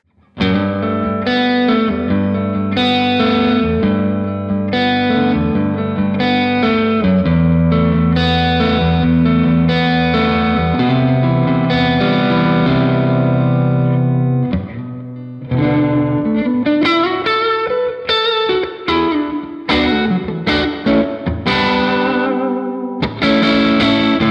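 Electric guitar played through a boutique amplifier modeled on 1940s hi-fi and PA systems, with distortion, chorus and echo effects; sustained chords and quick riffs ring loud and continuous, with a brief drop midway.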